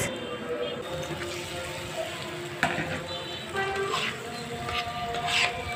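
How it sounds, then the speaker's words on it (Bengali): Tangra fish sautéing in spice masala in a pan, a steady close sizzle and frying crackle with occasional stirring scrapes, no talk. "মশলার ভিতরে আমি মাছ দিয়ে দিয়েছি। কিছুক্ষণ মাছ কষিয়ে নেব।"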